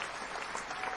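Applause for a game's art team, a brief burst of steady clapping from several people that fills the short moment evenly, with no pauses or voices standing out above it.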